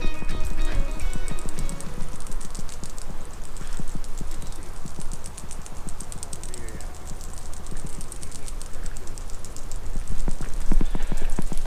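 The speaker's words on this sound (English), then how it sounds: "they're just these funny little clicking bugs, aren't they? I think they're beetles." Tiny beetles at the Grand Canyon click constantly in a dense, rapid, steady chatter that fills the scene, with a voice speaking briefly over it.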